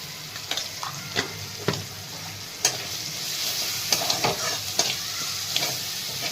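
Ivy gourd with red chili powder sautés in a pan, a soft sizzle punctuated by repeated sharp spoon scrapes and stirring clacks at an uneven pace, close and fairly quiet.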